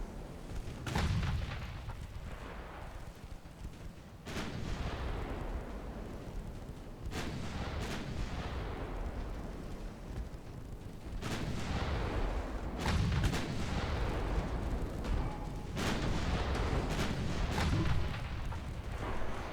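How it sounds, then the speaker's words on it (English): Seven-inch naval guns fire in the Ultimate Admiral Dreadnoughts naval warfare game, a series of heavy booming salvos, about seven or eight loud blasts spaced irregularly, each followed by a rumbling decay over continuous background noise. "we've taken 8 hits from those 7-inch guns now"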